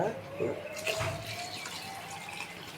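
Hot water poured into a pan of tomato bath seasoned with Maggi masala: a short splashing, trickling pour with drips, heard under a person talking.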